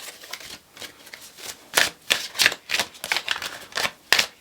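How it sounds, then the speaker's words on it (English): A tarot card deck is shuffled in a series of crisp riffling bursts, close and fairly loud, arriving in irregular clusters with short pauses between them and no talking. "Every deck is shuffled, of course"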